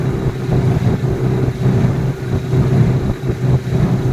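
Huangjie 40 HP outboard motor on a boat running steadily at throttle, a continuous low engine drone with slight wavering that hints at a misfiring spark plug, close and loud with no speech.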